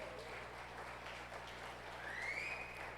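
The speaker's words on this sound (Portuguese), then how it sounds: "uma salva de palmas para o Senhor Jesus aí, bem forte aí" A church congregation applauding during a service, a faint, dense wash of clapping that is steady throughout, with a brief whistle-like tone near the end, with no talking.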